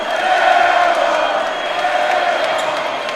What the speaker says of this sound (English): And the crowd will let her have it.